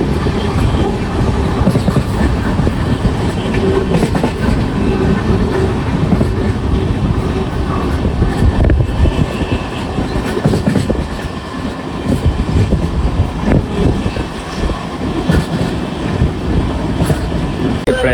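Passenger train on a long-distance rail journey toward Hyderabad rumbles steadily from inside the carriage, with continuous loud wheel and track noise and faint clickety-clack throughout, no voices standing out.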